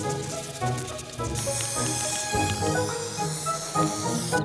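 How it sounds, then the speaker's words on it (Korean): Waterproofing spray is applied to rocks in a continuous hissing spray with a brief pause, then a bright, louder hiss that sputters on. "이 스프레이를 얼마나 많이 뿌렸으면은 여기 이렇게 흥건하게 이게 도포가 된 거를 볼 수가 있어요"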